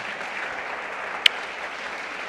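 Church congregation applause, a continuous, dense patter of many hands at a fair distance, with one sharp louder clap or knock standing out midway.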